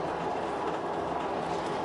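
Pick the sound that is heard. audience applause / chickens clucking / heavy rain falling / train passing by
train passing by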